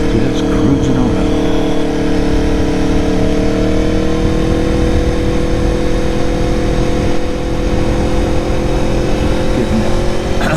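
An Aprilia Tuono motorcycle cruising on a ride, a loud steady engine drone with a slight pitch sway, wind rush over it, and a voice now and then.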